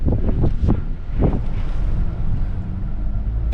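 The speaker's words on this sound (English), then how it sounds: "I tied it down because it's windy" Strong wind buffets the microphone in a steady low roar at an airport beside a small tied-down airplane, with a few louder gusts near the start, close and loud throughout.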